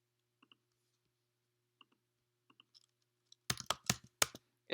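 Typing on a computer keyboard in a quiet room: a few faint, isolated key taps, then a fast, louder flurry of keystrokes at the end.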